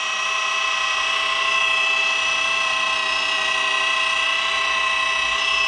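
A machine polisher works paste into the paint of a Skoda RS, a steady high whine with tonal bands holding close and loud throughout, rising slightly in intensity partway through.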